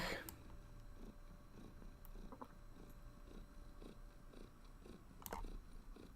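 Close, soft rhythmic purring from a pet cat, a steady pulsing rumble, with faint chewing-like clicks and a couple of brief sharper noises.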